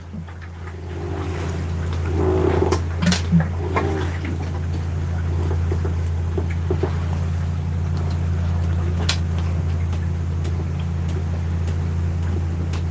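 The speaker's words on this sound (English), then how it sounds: "the boat is making noises" A steady low engine hum drones throughout, with a few faint knocks and creaks early on, like a boat motor heard from aboard a boat off Biak, Indonesia.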